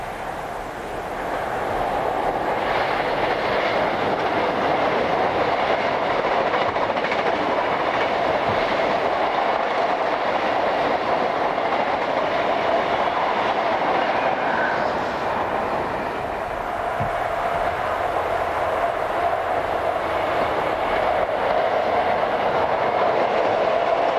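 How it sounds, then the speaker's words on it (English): A Class 633 train bound for Milan rolls past at length, a loud sustained rumble with faint clickety-clack and a steady whine, no voices over it. "633082 is on the rear of this train bound for Milan."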